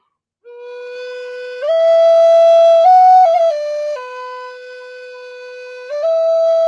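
A Native American flute sounds a soft sigh attack that eases into a sustained, breathy tone, then climbs and steps between a few held pitches in a slow, clear solo line with no voices.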